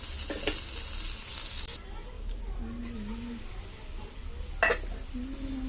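Pepper chicken frying in a pan without onions, with a steady close sizzle that fades partway through, a couple of brief scraping stirs and faint voices in the background.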